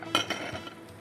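A serving platter and dishes clink as they are set down on a kitchen counter: a few short, bright ceramic knocks close by, with the loudest one near the start and softer taps after it, and no voices.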